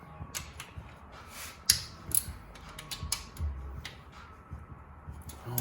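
A wrench cracks loose tightly torqued rocker bolts on an engine, sounding as close ratcheting clicks and metallic creaks in short bursts with a few sharper snaps, alone with no voice.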